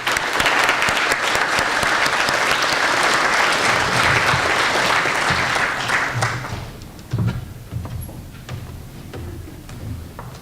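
An audience claps loudly and steadily for students at a School of Business recognition and scholarship reception, the dense applause holding for about seven seconds before thinning into scattered claps.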